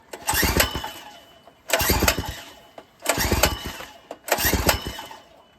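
Rebuilt Predator 212 small engine being pull-started on choke: four loud, close pulls of the recoil starter, each bringing a brief sputtering burst of cranking that dies away before the next.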